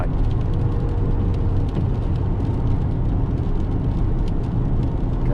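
A stock 2018 Dodge with the 392 engine drives along, giving a loud, steady low rumble with road and wind noise, continuous and unbroken, with no talk.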